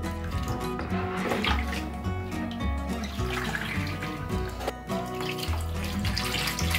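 Tap water runs steadily into a bath as a Baby Alive doll is rinsed, a continuous splashing wash with faint bubbling and trickles, close and fairly loud, with no talking over it.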